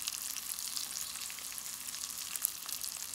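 Flour being stirred into pan juices left from searing moose meat for a pie filling, a faint steady sizzle with soft scraping of the stir, quiet and alone with no talking.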